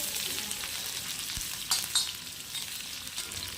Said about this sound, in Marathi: दोन ते तीन मिनटांसाठी मोठ्या फ्लेमवरती छान अशी मिरची आपण परतून घ्यायची आहे